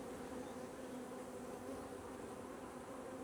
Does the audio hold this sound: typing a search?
no